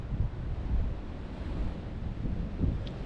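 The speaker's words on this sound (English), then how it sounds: "This wind is, you could probably hear it right around the other side of this summit block." Strong wind blasts across an exposed summit block in the Wind River mountains, giving a loud, continuous roaring buffet on the microphone that swells and eases in gusts, with no talking.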